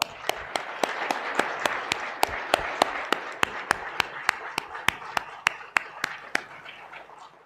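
An audience at a Hindi spiritual satsang claps in unison, a steady, evenly spaced beat of sharp claps kept up for several seconds over a faint hum of the room.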